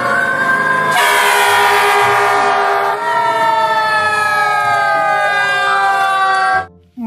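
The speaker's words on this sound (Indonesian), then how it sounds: "Wow, lihat pemadam kebakaran." A toy fire engine plays a loud electronic siren up close, steady tones shifting to a rising and falling wail partway through, then cutting off abruptly at the end.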